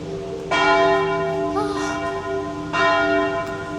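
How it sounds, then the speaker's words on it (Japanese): A church bell in Rome rings noon in two loud, resonant strikes, each with a long shimmering hum that lingers between them. "12時の鐘の音"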